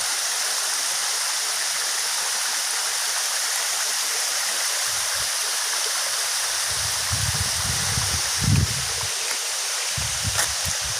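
Steady rushing water of a stream at Taginis Falls, a constant broadband roar close by, with a few low bumps and rustles near the end.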